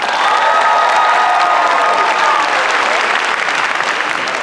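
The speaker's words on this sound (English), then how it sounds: "Give them another round of applause." Audience at a dance recital gives a sustained round of applause mixed with cheering and whistles, a loud, dense wash of clapping from a large crowd in a hall.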